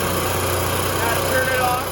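A Winnebago Outlook RV generator on a 2019 Ford chassis runs steadily, a constant engine drone with a low hum that holds without a break.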